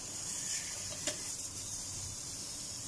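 Tamban fish cooks in a pan without oil, giving a soft, steady sizzle with one brief sharp clink near the middle; no voices are heard.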